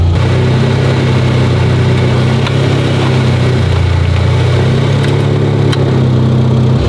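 A car engine idles steadily after being restarted, a loud, even low drone holding through the whole stretch with faint mechanical ticking on top and no voices.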